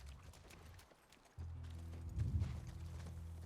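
Hooves clip-clop from a horse in The Last of Us near a ranch, a quiet dip then a steady soft trot, fairly faint and close, with no talking over it.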